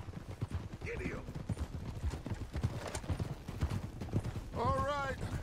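In the video game Red Dead Redemption 2, a horse gallops with rapid, rhythmic hoof clip-clops throughout, and a short whinny sounds near the end.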